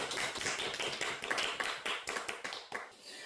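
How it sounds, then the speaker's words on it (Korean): An audience claps to welcome a speaker at a Korean personal-storytelling lecture, dense and steady for about three seconds, then thinning out at the end. "저희 박소연 명사님을 큰 박수로 맞이해 보도록 하겠습니다"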